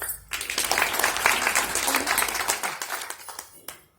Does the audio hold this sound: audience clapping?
yes